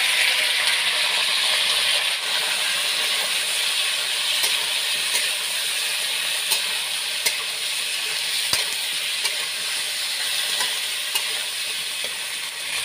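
Green bananas hit hot oil in a pan for a rohu fish curry with potatoes, producing a steady, close, bright sizzle that hisses evenly for over twelve seconds with faint stirring clicks.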